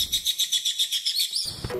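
A rare bird, the Goku'enchou, found in the lava caverns of the video game Monster Hunter Rise, gives a rapid string of about ten high, pulsing chirps, then a rising whistled note and a short scuffling sound.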